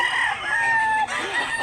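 A large rooster in Mantalungon, Barili, Cebu crows once, loud and near, with a long drawn-out call followed by a shorter trailing note.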